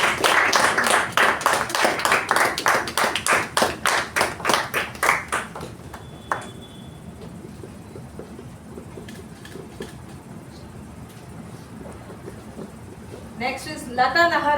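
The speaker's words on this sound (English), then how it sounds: "Let's all give a round of applause." A Toastmasters meeting audience claps for a member completing a level, a dense burst of applause for about six seconds that thins into scattered claps and then fades, with a short renewed patter near the end.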